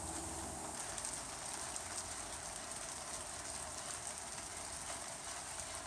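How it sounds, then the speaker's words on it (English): Gentle rain falls steadily on garden plants, a soft continuous hiss of drops close by with no voices. "I love the sound of gentle rain on the plants"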